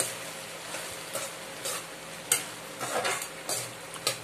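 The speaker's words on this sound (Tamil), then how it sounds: "ஜூசியா ஆகற வரைக்கும் நல்லா வதக்கிட்டே இருங்க" Tomatoes sautéed and stirred in a pan for tomato chutney, a soft constant sizzle broken by repeated spatula scrapes and taps at a steady, close rhythm.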